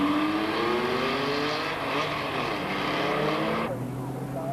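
Porsche race cars in a 1989 Porsche Club championship race scream past on track, loud engine notes rising and sweeping by in a continuous roar that drops off sharply near the end.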